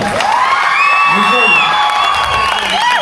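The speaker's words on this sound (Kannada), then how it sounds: "ಡ್ಯಾನ್ಸ್ ಮಾಡಿದ ಪ್ರತಿಯೊಬ್ಬರಿಗೂ ಜೋರ ಚಪ್ಪಾಳೆ" A loud crowd at a college youth festival dance competition in Kolar cheers and whoops with applause underneath, a dense, sustained roar of voices and clapping throughout.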